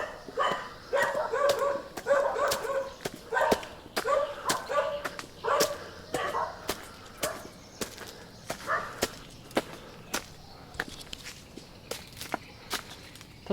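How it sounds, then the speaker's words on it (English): Stray dogs bark repeatedly in the first half while crisp footsteps crunch steadily along a mountain path in Phatthalung, Thailand; the barking fades out and the steady walking continues alone. "Overrun by dogs here."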